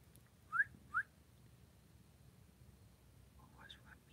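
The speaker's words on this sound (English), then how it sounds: "Or are you talking about the whistle?" From outside, two short, sharp rising whistle chirps come close together, faint and distant, followed a few seconds later by a softer warbling whistled phrase over a low background hum.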